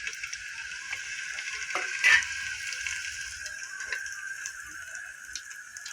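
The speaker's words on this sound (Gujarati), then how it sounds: "હવે વઘાર નાખી દેવું" Whole spices for tempering, including bay leaf, cloves, cinnamon and cumin, sizzle in hot oil: a faint, steady hiss throughout, with one brief crackling spurt as they hit the oil.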